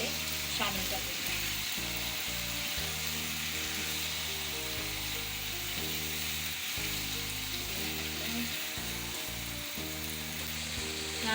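Onions fry in a pan for chicken keema with a continuous, even sizzle, accompanied by a low steady tonal hum throughout.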